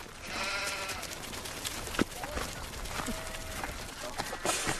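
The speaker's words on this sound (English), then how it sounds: "Bloody wandering sheep on the road" Sheep wandering on a road bleat faintly and intermittently under steady outdoor noise, with a few sharp knocks and shifting sounds nearby.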